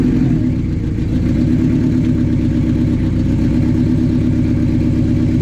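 A loud car engine rumbles and revs steadily up close, a deep continuous throbbing drone with slight rises in pitch and no voices over it.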